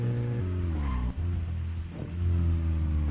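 A car engine in the video game Deadly Premonition hums steadily close by, its pitch dipping and climbing as it revs a little.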